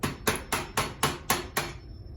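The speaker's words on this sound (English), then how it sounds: "you'll need a screwdriver and a hammer to just knock it out of its little black block." A hammer taps seven quick, evenly spaced knocks on a screwdriver to drive a plastic rod out of the black block of a portable staging leg riser, each strike crisp and close, followed by a short quiet tail.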